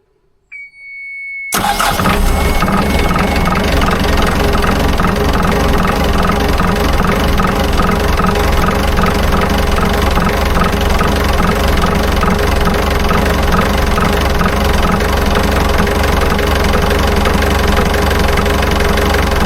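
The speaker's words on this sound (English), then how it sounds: "be able to turn this engine over, and it shouldn't stall" An engine cranks and catches after a brief quiet moment, then settles into a loud, steady idle with a continuous rumble and faint knocking.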